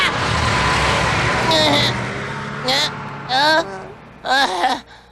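A cartoon car approaches in a Doraemon episode, a rushing engine swell that fills the opening moments before fading under animated character voices speaking in short bursts.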